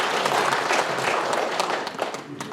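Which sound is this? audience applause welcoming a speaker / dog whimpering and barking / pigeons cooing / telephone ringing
audience applause welcoming a speaker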